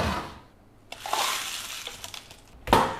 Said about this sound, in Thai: เสร็จแล้วค่ะตักน้ำแข็งเต็มแก้ว